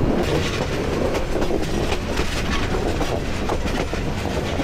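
The Mahanagar Express from Chittagong to Dhaka, slowing as it nears Feni Junction, makes a continuous loud rumble with rhythmic clickety-clack of wheels on rails, heard from on board.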